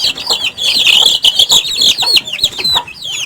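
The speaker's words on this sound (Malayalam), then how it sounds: "ഇത് കൈരളി കോഴിക്കുഞ്ഞാണ് തനിനാടൻ കോഴിക്കുഞ്ഞുങ്ങൾ" Busy, high-pitched peeping of many Kairali native chicks close by, with a few lower hen clucks mixed in.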